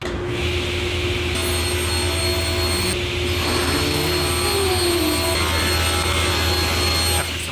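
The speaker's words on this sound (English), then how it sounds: "Quick work ripping everything down on the 4 horsepower Harvey table saw" A 4-horsepower Harvey table saw rips boards in a woodshop for a shelf build, a loud, steady whine with a strong motor hum that shifts in pitch as the wood feeds through the blade, with no talking.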